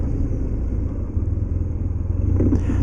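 Steady rumbling drone of a 2007 BMW R1200GS boxer-twin engine while riding, close and loud throughout, holding a constant pace with a slight lift near the end and wind rush around it.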